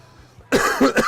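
A burst of harsh, raspy coughing up close, two or three quick hacks after a moment of near silence.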